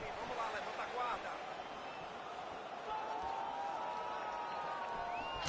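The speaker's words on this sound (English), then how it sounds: "the crowd continues to react with every passing land" Arena crowd in a UFC 5 video game fight, a continuous murmuring roar that rises slightly at moments, sitting under a commentator's voice throughout.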